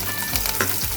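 Onion fries with garlic in hot oil, a loud, close sizzle with a brief stirring scrape in the middle of a short burst.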